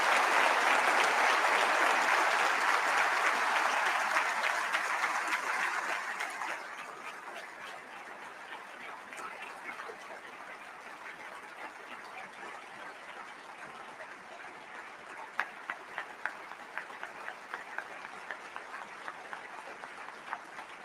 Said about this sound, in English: I feel like they're applauding even more